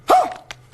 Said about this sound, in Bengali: যদি আপনার পালিত কুকুর আপনাকেই দেখে ঘেউ ঘেউ করে